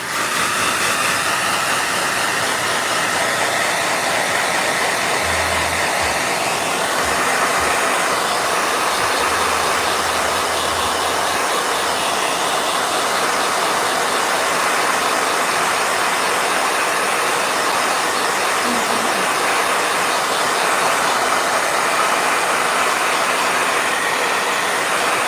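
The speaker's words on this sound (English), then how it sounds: "Blow dryer." A hair dryer blows hot air over watercolor paint, a steady, loud, unbroken whoosh that holds close and even from start to finish.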